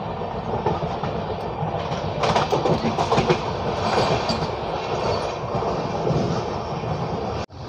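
The 22934 Bandra Superfast Express runs on the rails near Mumbai, a loud, steady rumble with clickety-clack from the wheels and brief squeals, heard from inside the moving train until an abrupt cut near the end.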